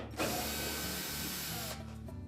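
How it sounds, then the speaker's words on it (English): A ratchet or driver clicks steadily and up close while backing out the 3/4-inch hex head screws that hold a GE washer's control panel to its metal bracket. The clicking runs for about two seconds with no talking. "our next step will be to remove these 3/4-inch hex head screws"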